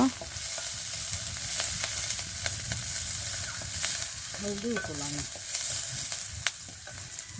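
Mustard oil with bay leaves frying in a pan for a rustic village dish, a steady sizzle running throughout with scattered crackles and a brief tonal sound midway.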